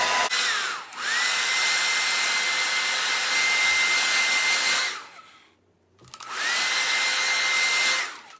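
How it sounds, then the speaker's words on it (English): A hair dryer blows steadily and loudly, cuts off briefly for about a second, then starts up again and keeps running. "go ahead and get your blow dryer out and blow dry it."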